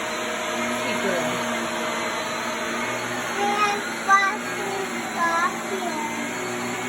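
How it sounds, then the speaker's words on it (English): A household vacuum cleaner runs with a steady, loud motor drone throughout, close by, while a voice and other faint voices break in briefly over it near the end. "she doesn't like the vacuum too much."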